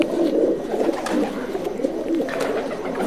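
A prized classical-breed pigeon on a rooftop coos steadily, its soft low throaty calls rolling in a near continuous rhythm, close and clear with no talking.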